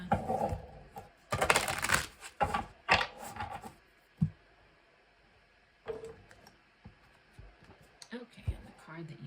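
Tarot cards shuffled by hand: several quick, papery riffling bursts near the start, then softer card handling and scattered taps with quiet pauses between.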